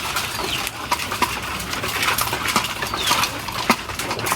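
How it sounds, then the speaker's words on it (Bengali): Domestic pigeons coo softly in a loft, low murmuring calls mixed with wing flutters and scattered metallic clinks and taps, close by and fairly busy. "এটা আমার পছন্দের একটা কবুতর।"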